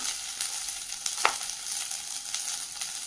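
Two dry red chillies frying in hot oil for a murungai keerai (drumstick leaf) chutney, giving a soft, steady sizzle with light crackle and one brief sharper pop.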